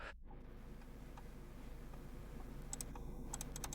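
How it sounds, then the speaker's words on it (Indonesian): Quick, light clicks of typing on a computer keyboard, the keystrokes faint and sparse over a steady low background hum, clustering in a short burst toward the end. "Setelah itu silakan mengetikkan kata Odin."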